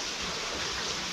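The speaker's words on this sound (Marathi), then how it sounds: "अरे पाऊस बघ एवढं." Heavy monsoon rain pours down as a steady, dense hiss with no distinct drops standing out, fairly quiet and continuous, without any voices.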